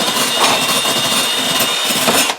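Dremel rotary tool grinding paint off a vintage Hubley toy car, a steady, close, bright high-pitched whine that holds for a couple of seconds with slight wavering before tapering off at the end.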